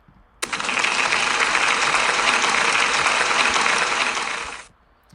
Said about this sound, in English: Can we give Neva a big round of applause, please?